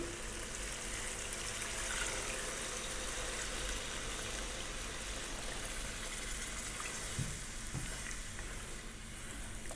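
Water pours steadily into a pot of spicy sweet potato coconut soup, a continuous hissing, splashing flow heard close and alone for nearly ten seconds.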